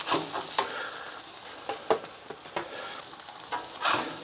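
Hamburger patties topped with melted cheese sizzle steadily on a hot griddle for a 1950s-style burger, with a constant frying hiss broken by scattered louder pops and spatula scrapes, no voices.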